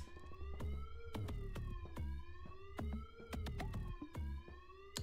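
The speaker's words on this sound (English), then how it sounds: "Starting off with a siren." A wailing siren with a rising and falling pitch sits inside a Stray Kids song, punctuated by sharp percussive hits and a heavy low bass.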